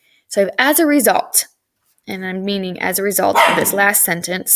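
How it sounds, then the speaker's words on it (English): A pet dog barks indoors in short, sharp yaps that overlap a person speaking steadily nearby. "excuse my dog barking"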